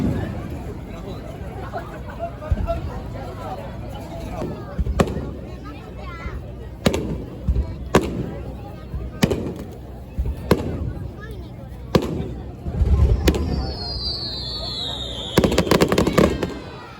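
Fireworks burst repeatedly at irregular intervals at a village festival in Japan, sharp loud bangs over crowd chatter, with a rising whistle near the end.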